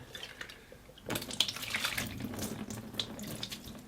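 After a second of quiet, dirty rinse water gushes forcefully out of a Graco Ultramax paint sprayer switched to prime, in a splashing, hissing stream that keeps running.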